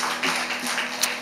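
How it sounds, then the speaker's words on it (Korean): Church congregation at a Sunday morning service clapping together in praise, a brief, fairly soft wash of applause in a reverberant hall. "우리 하나님께 영광의 박수 올리겠습니다."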